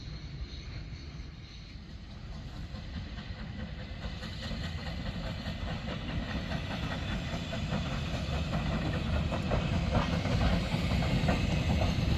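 Steam locomotive at a heritage railway centre, a broad steady hiss and rushing rumble that slowly grows louder over about twelve seconds, with faint rhythmic chuffing beneath.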